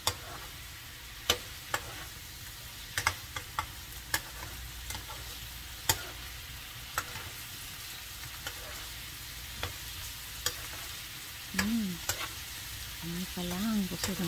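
Rice being stirred with soy sauce in a frying pan, soft sizzling under a run of sharp utensil scrapes and taps against the pan, close and fairly quiet.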